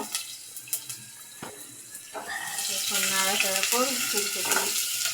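Onion and chili frying in soybean oil, a steady near sizzle that swells and thickens partway through, with brief scraping stirs and faint background voices.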